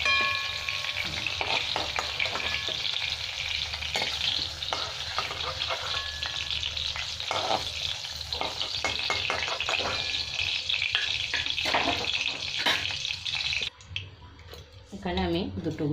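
Whole cumin seeds and two bay leaves frying in hot oil for doi potol, a continuous crackling sizzle up close that quiets near the end.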